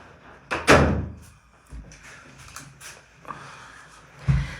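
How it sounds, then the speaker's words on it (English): A room door is pushed shut with a loud close thump near the start, then softer rattles and small handling knocks, and a second low thud near the end, all close by with no talk. "I just shut this door a minute"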